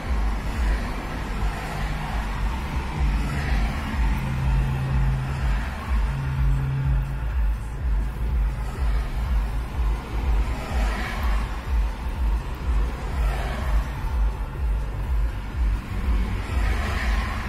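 Road traffic on a two-lane road, with cars approaching and pulling away while a radar speed gun clocks them, forms a steady engine and tyre drone with several passes swelling and fading over a continuous low rumble.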